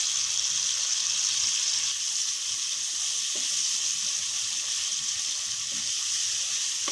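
Meat with ginger and spices sizzles in hot oil in a pan, a loud, even, hissing sizzle that runs unbroken with no voices.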